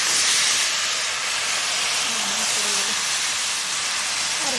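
Water from a spice bowl poured into a hot pan for a village-style hilsa fish curry sets off a loud, continuous steamy hiss and sizzle that stays close and steady throughout.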